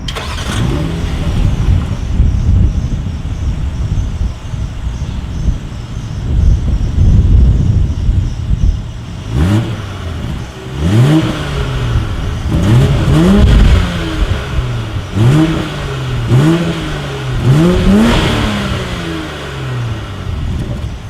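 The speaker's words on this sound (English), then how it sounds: "As always, here is that exhaust clip." Exhaust note of a 2020 BMW X5 SUV, starting with a low idle rumble and then a series of about six sharp throttle blips, each rising and falling in pitch, close up with some wind buffeting.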